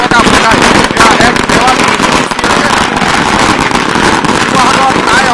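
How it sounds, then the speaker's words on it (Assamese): Firecrackers burst loudly and close on a street in Sivasagar during a celebration, a dense, unbroken volley of crackling pops with sharper cracks jumping out along the way. "শিৱসাগৰত এনেধৰণে আচলতে ফটকা ফুটাই"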